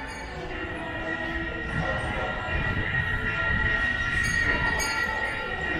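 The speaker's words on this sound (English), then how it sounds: "It's a train." A small kiddie train rumbles steadily through a busy shopping mall, with a faint whistle-like tone and crowd murmur around it.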